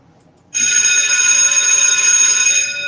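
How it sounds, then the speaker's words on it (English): A bell starts suddenly and rings on in a loud, sustained metallic tone that fills the rest of the moment, with no voices over it. "there goes the bell"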